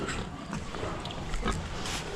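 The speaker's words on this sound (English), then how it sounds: "Right, I'll go around these pigs now." Farm pigs grunt and snuffle nearby in a quiet, low-level stretch, soft rough snorts and rustling with no talking.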